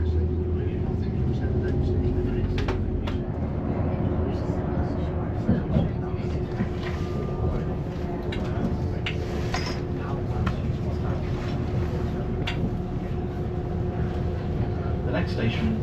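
Steady low rumble inside a moving train carriage travelling to Manchester Piccadilly through the Peak District, with continuous rolling noise and occasional clicks and rattles throughout.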